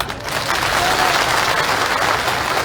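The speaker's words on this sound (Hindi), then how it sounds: "बजाओ ताली।" A crowd at an outdoor political rally in Gwalior claps steadily in a dense, continuous wash of applause that swells slightly and holds at full loudness without talk over it.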